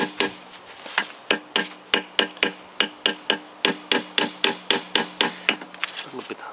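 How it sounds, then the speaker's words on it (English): Light hammer taps on a crankshaft bearing of a Toyota VVT-i engine being taken apart, about twenty sharp, evenly spaced knocks repeating steadily up close with no talk. "A little bit hammering."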